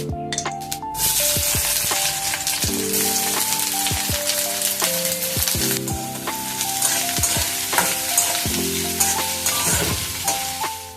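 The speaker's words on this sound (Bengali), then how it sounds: "2টো বড় সাইজের পেঁয়াজ কেটে রেখেছি, এটা এবার দিয়ে দেবো কড়ায়।" Two large chopped onions go into hot mustard oil in a wok: a loud, dense, continuous sizzle and crackle, with sharp spatula taps and scrapes scattered throughout and a steady tone running underneath, no voices.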